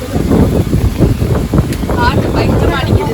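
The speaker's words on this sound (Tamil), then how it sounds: "காத்து நல்லா அடிக்குதுல்ல" Strong wind roars steadily and loudly across the microphone on a rainy day, turbulent rumbling gusts dominating throughout, with people's voices partly heard beneath it.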